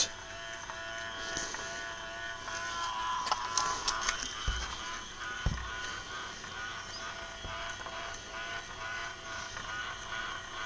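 A small battery-powered motor in an E.T. model kit whirs and buzzes steadily and quietly, with light mechanical clicks and rattles of the moving parts as it runs.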